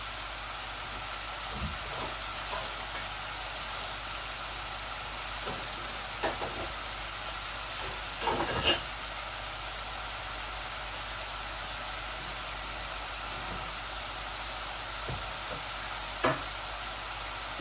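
Onion fries in a pan with a low, constant sizzle that stays fairly quiet and steady, broken by a few brief knocks and clatters; no one speaks.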